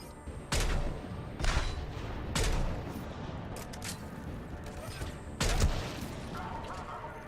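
Gunfire and explosions in a Mass Effect 3 firefight: heavy blasts and bursts of shots at intervals over a constant rumbling battle bed, fairly faint overall, with a voice talking at times.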